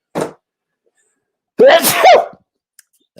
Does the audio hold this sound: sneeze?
yes